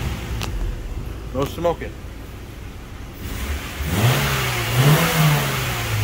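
A 1999 Honda Civic Si's engine idles, then revs up when given gas, rising in a strong climbing whine and settling back. Someone speaks briefly before the rev.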